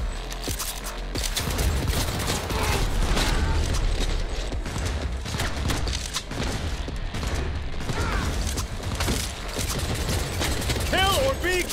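Rapid gunfire in the video game Cyberpunk 2077, dense loud bursts of shots and mechanical clatter filling the whole stretch, with shouted voices mixed in.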